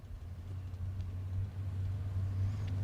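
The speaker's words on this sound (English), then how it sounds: "Small block Chevrolet running 520 in the right lane." A small block Chevrolet drag racing car sits in the right lane at a bracket racing event, its engine a steady low rumbling idle heard from a moderate distance with no voices over it.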